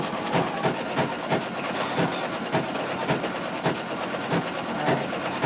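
A sewing machine stitches thread from a large cone spool to make a lace lantern, giving a rapid mechanical whir punctuated by regular rhythmic clacks about twice per second, moderately close.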